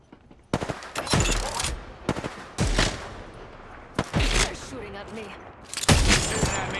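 Bursts of automatic gunfire in the video game Apex Legends, four loud clustered volleys of rapid shots with short gaps between them, close and sharp over game ambience, with a voice speaking in between.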